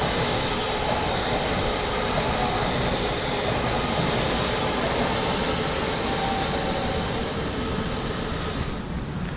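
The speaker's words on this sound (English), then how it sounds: "There's a train coming through. Or is it the underground?" An underground train rumbles past near Kings Cross Road, steadily and loudly, a dense continuous roar with faint wheel squeal, lasting several seconds without a break.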